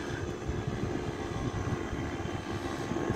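A paramotor engine droning steadily overhead above a beach-side street, a continuous buzzing propeller hum that stays fairly loud and even throughout with no talking.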